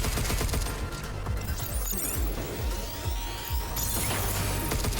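Rapid bursts of gunfire in the action game Pragmata, sharp repeated shots and clanking mechanical impacts layered over a dense, loud battle soundscape, no speech.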